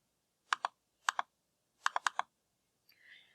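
Short bursts of keystrokes on a computer keyboard while entering a VLOOKUP formula: two quick clusters of clicks, then a faster run of five or six taps, close and crisp in a quiet room, followed by a faint brief rustle.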